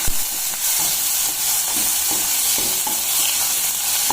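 Bitter gourd sabji with curry leaves, coriander and onion being stirred in a pan, a steady close sizzle of frying with soft scraping of the spoon throughout, no voices.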